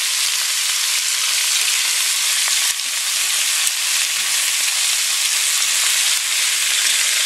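Pork and ribs frying in a pan, a steady dense sizzle that stays loud and even from start to finish with no voices over it.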